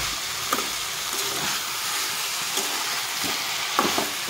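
Spices and a rohu fish curry base with potato and cauliflower frying in a pan: a continuous soft sizzle and hiss, with occasional light taps of a spoon against the pan, close and steady.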